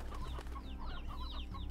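Several video game chickens in Slime Rancher cluck softly and repeatedly, close by, over a steady low electronic hum.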